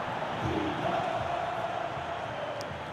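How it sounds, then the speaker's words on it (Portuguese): Corinthians supporters cheer in a football video game stadium, a dense, steady roar of crowd noise holding at a constant level throughout with no clear peaks. "E a torcida do Corinthians incentivando o time muito, muito, muito."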